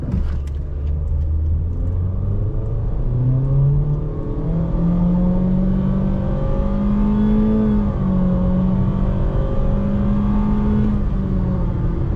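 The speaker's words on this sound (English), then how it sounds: "let's go ahead and do a 0-60 and see how good it is" A 2023 Honda HR-V Sport pulls hard from a brake-torqued standstill toward 60 mph, its engine note rising steadily as it climbs, loud and close from inside the cabin with no talking.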